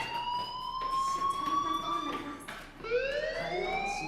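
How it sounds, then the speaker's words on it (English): A fire alarm rings in the video game Life is Strange, a steady electronic tone with a brief dip before it swells again, fairly loud and continuous throughout. "do you hear that fire alarm?"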